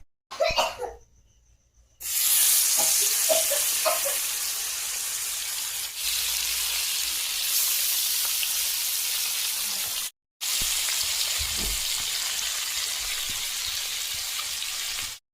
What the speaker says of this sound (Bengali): পায়রা মাছটা লবণ হলুদ দিয়ে মাখিয়েছি, তো ভেজে নেব এবার